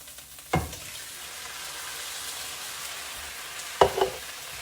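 Marinara sauce is stirred into a ground beef mixture frying in a pan, giving a steady, soft sizzle throughout. Two clunks of a spoon or pan mark the start and end.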